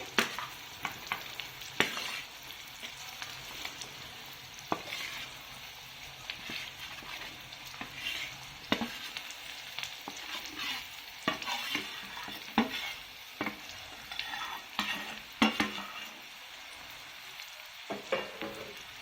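Bottle gourd frying in a pan over medium heat while being stirred, a soft steady sizzle broken by frequent scraping and clinking from the spoon.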